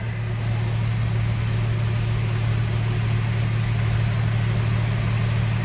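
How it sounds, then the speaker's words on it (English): A truck pulls into a large shop through big open doors, heard as a steady, loud engine drone with a strong low hum that stays constant throughout, with no speech. "Big doors opening up."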